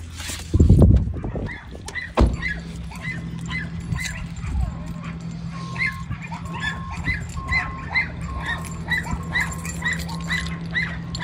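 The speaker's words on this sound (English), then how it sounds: "The dogs, yeah." Dogs bark and whimper in a rapid, repeated series of yips and cries that runs throughout, with a close thump near the start. A person speaks briefly over them.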